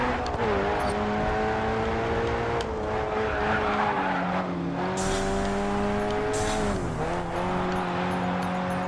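Subaru race car in the racing game Grid 2, engine droning steadily with pitch rising and dipping through shifts while tires squeal and skid across the track, loud and continuous.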